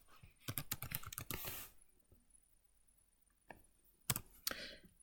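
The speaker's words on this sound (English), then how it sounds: "I'm just going to type a brief summary." Quick bursts of typing on a computer keyboard while entering a brief book summary into a library catalog record, heard close and crisp as clusters of rapid clicks separated by pauses, with no talking.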